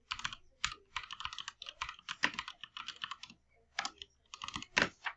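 Close, crisp clatter of typing on a computer keyboard, with quick uneven bursts of key taps and short pauses between them. No other sound competes.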